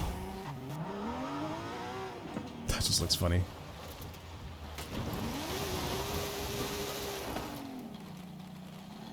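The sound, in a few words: car engine revving while driving in Forza Horizon 5 video game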